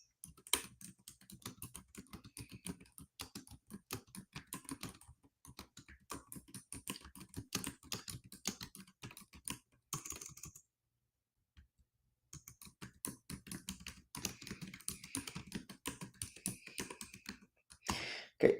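Fast, steady typing on a computer keyboard, dense clicks in bursts with a short pause midway, close and fairly quiet with no talking.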